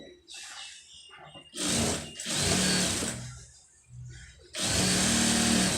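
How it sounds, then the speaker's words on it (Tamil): Sewing machine stitching the band of a lined blouse: three sustained, close whirring runs of stitching separated by brief pauses, the last run loud and steady. "பட்டி எப்படி வேணாலும் தைக்கலாம் அப்படிங்கிறதுக்கு இந்த மாதிரி உங்களுக்கு நான் வந்து தைச்சி காமிச்சிருக்கேன்"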